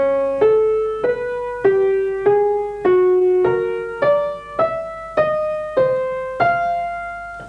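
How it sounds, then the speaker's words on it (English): A piano plays a Schoenberg twelve-tone row in pure form. Twelve separate single notes are struck one after another at an even, deliberate pace, each ringing clearly and alone, close and moderately loud. "this is what 12-tone rows sound like in their, if we can call it, pure form"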